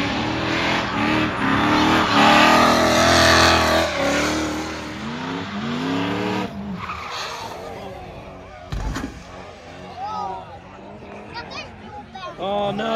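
A drift car at Castle Combe circuit on a German car day revs and accelerates nearby, its engine rising and falling loudly. People talk over it, and a sharp bang cuts through briefly near the end.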